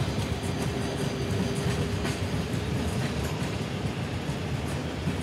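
A simulated Padatik Express train rolls past in Trainz Simulator, a steady loud rumble of wheels and carriages with rhythmic clickety-clack over the rails, continuous and close throughout with no voices.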